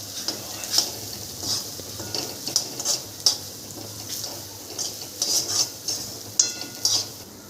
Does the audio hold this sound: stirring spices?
yes